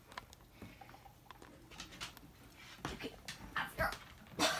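A dog being coaxed into a bathroom for a wash, with faint scuffling, pattering movement and soft whimpers building toward the end, no clear talk.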